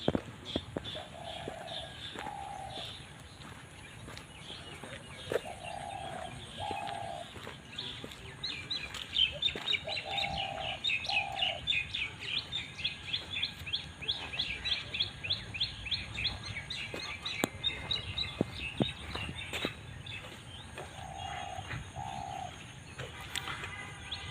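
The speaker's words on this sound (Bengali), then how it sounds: "সকালবেলা গুগু ডাকতেছে" Spotted doves coo on a morning in paired, low, soft notes that repeat four times at wide intervals, against a steady backdrop of other birds chirping busily nearby.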